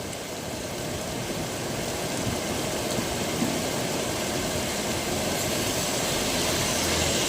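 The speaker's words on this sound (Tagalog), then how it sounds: "Init-init guys tapos biglang buhos ulan." A sudden heavy tropical downpour pours steadily down, a dense, continuous roar of rain that stays loud and even throughout with no pauses, drowning out everything else.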